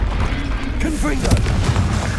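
A Confringo fire-spell explosion in the Hogwarts Legacy video game, a booming blast with rumble amid busy combat noise, with a voice speaking over the top.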